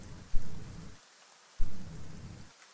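Rain and rolling thunder set the ambience for a tabletop Pathfinder game, heavy low rumbles swelling twice over a steady rain hiss, each beginning with a sharp crack and then cutting off abruptly.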